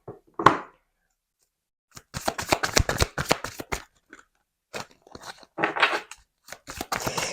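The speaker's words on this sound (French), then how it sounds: "on va prendre 3 cartes là du chakra du cœur" Oracle cards for the heart chakra drawn from a deck: a single crisp snap, a pause, then a run of close, rapid papery flicks and shuffles in bursts, with no talking.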